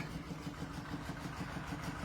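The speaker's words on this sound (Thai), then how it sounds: "นี่นะเครื่องยนต์ก็จะเป็นแบบนี้นะ" A car engine idles steadily in a workshop, a low, fairly quiet rumble with an even pulsing rhythm and no voices.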